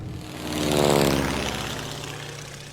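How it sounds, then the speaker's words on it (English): A propeller airplane in the video game Mafia Definitive Edition drones past, its engine hum swelling to a peak within the first second and then fading slowly. "Airplane."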